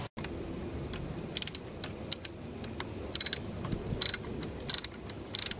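A ratchet loosens a 12mm bolt on a Camry V6 engine, beside the metal pipe that runs to the thermostat housing. It makes close, sharp bursts of quick clicking, separated by short pauses, over a low background hum.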